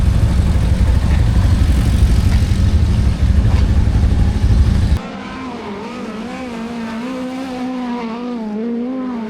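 A sprint car on a dirt racing track roars at full throttle with a loud, dense engine note, then cuts to a different, quieter segment where a wavering engine tone rises and falls as the car circulates.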